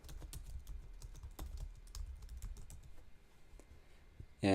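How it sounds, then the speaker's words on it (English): Fast typing on a computer keyboard, with close, crisp key clicks in quick irregular bursts over several seconds, ending in a louder thump. "I can quickly type in my title"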